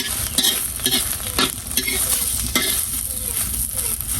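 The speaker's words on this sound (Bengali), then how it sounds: "হয়ে গেছে ডিম ভাজা।" An egg frying in a pan with turmeric, chili and salt, sizzling steadily with light scraping and stirring strokes close by, no talking.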